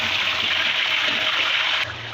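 About a kilo of chicken frying in a pan for chicken karahi, giving a loud, steady hiss and sizzle that stays even throughout before cutting off near the end, with no talking over it.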